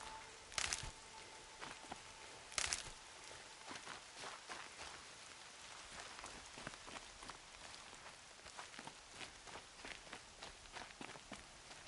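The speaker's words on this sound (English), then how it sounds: "More rain. My boots will get damp." Rain falling in the video game Horizon Zero Dawn, a soft steady patter of drops on the ground with repeated footsteps crunching along through it and a couple of brief sharper hits near the start.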